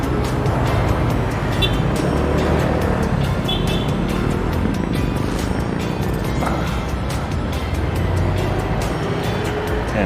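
Road traffic on a city street in Caloocan near Monumento, Philippines: dense, steady engine and road rumble that stays loud and close for the whole stretch, with no pauses.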